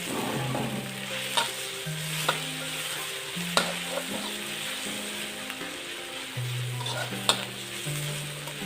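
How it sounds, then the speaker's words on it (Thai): Pounded bird's eye chili and garlic stir-fry in hot oil for squid with holy basil, a steady sizzle broken by sharp spatula clanks against the pan every second or so, with a faint tonal hum beneath and no talking. "น้ำมันร้อนก็เอา พริก ขี้หนูแล้วก็ กระเทียมที่เราโขลกตะกี้นะครับเอามาคั่วมาพัดครับผม"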